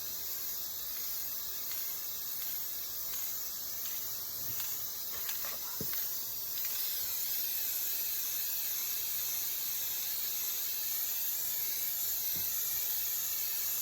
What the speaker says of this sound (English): Make sure you spray paint in a well ventilated area or have a good mask.